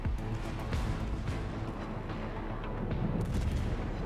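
The battleship Scharnhorst's secondary guns fire in a naval video game, a dense continuous roar of booming shots and rumble that stays loud throughout with no clear gaps.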